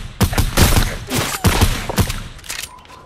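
Rapid gunfire in the video game Fortnite, a burst of several sharp close shots in quick uneven succession, tapering off at the end, with no talk.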